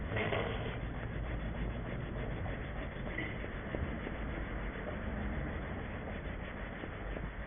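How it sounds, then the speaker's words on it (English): A rag soaked in thinners rubs over vinyl on a 1936 Studebaker pickup hot rod build, giving a continuous soft scrubbing and swishing at close range, fairly quiet, with no talking. "So I've just got to keep changing positions on the rag so I don't keep rubbing it back in"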